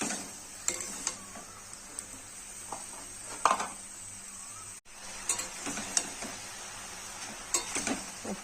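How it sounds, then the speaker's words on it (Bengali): Vegetables and chickpeas fry in a pan, a quiet sizzle broken by scattered scraping clicks and knocks as a utensil stirs them, fairly close and with no talking. "এখন এভাবে ভেজে নেব।"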